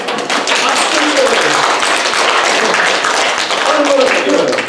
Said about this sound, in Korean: 찬송할 때 박수 좀 치세요.